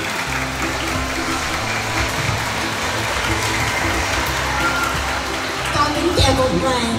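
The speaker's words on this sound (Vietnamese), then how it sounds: "Xin chào đón Ngài bằng một tràng pháo tay thật lớn và thật nồng nhiệt." A church congregation applauds to welcome a priest, a broad wash of clapping from a large indoor crowd lasting several seconds, mixed with voices and a murmur underneath, swelling slightly toward the end.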